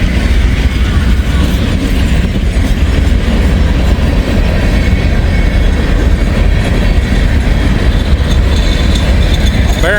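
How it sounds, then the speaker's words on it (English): A Herzog ballast train running empty as it passes close by, a loud continuous rumble with rhythmic clickety-clack of wheels over rail joints and a brief squeal near the end. "Herzog ballast train."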